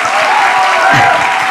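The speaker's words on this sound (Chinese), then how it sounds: "这首歌来点掌声啊" Studio audience applause for a song on a Taiwanese late-night talk show, a short, dense burst of clapping with faint crowd noise, a voice briefly heard over it.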